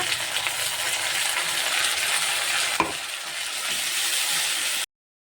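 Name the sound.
ginger garlic paste frying with onions in a pan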